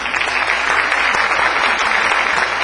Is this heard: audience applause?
yes